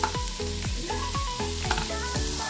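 Garlic, onion and ginger sauté in a pan for papaitan, giving a steady loud sizzle with repeated scraping stir strokes, close up and with no talking.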